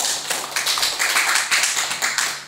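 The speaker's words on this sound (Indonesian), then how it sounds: "Berikan tepuk tangan yang meriah kepada Tuhan" Congregation clapping during a church service, a dense burst of applause with uneven rhythmic surges that holds steady and close throughout, no voices over it.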